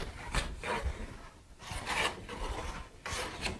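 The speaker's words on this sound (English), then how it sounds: "I don't have to stop planing at all, just little adjustments" A hand plane shaves a wooden board in a series of rhythmic rasping strokes, about five close, moderately quiet passes separated by short pauses.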